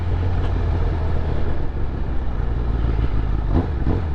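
A Honda CBR1000RR motorcycle engine runs as a steady, close, continuous rumble with no breaks.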